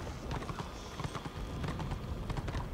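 Horse hooves clip-clopping in the online fantasy war game Return of Reckoning, a steady rhythmic trot of quick taps over a dense bed of game sound throughout.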